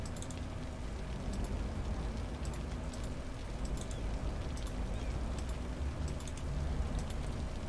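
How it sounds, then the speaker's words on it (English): Steady rain falls in the city-building game Cities: Skylines, a constant soft hiss with occasional light clicks over it. "It's raining now."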